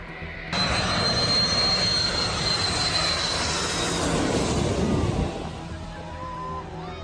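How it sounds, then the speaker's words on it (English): Jet airplane flying low on landing approach, roaring in loudly and close with a broad rushing engine roar and high whine for several seconds, then fading away as it passes. "The approach is so close that signs warn tourists about jet blast winds."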